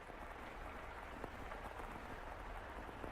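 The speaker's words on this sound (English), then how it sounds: "Oh, the rain just won't let up." Steady rain falls in the video game House in Fata Morgana, a dense, even hiss of drops with no variation, soft and continuous with no voices.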